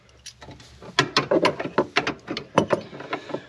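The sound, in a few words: ratchet wrench tightening Ford Bronco soft top strut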